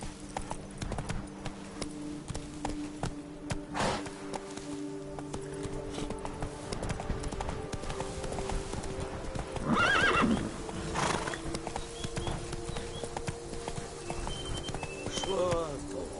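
Horse hooves gallop in The Witcher 3, a steady clip-clop rhythm running throughout with a neigh or whinny mid-way, set against game music and occasional spoken voices.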